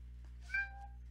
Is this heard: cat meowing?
yes